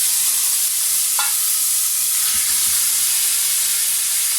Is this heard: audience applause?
no